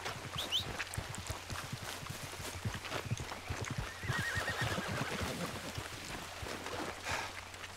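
Horse neighing in Red Dead Redemption 2, a faint whinny heard under game ambience with hoof clip-clops and other background sounds across several seconds.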